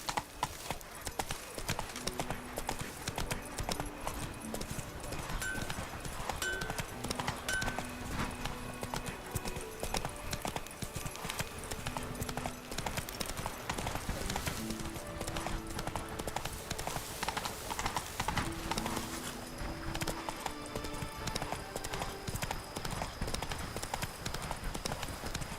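Hooves of Roach, a horse in The Witcher 3: Wild Hunt, clip-clop steadily at a gallop throughout, paired with game music and ambience, and an occasional brief voice.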